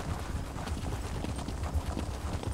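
Hooves of a ridden horse in The Elder Scrolls Online clop in a steady, rapid rhythm, moderately loud and continuous across a short stretch with no talk over it.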